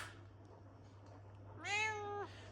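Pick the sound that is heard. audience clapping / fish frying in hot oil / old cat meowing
old cat meowing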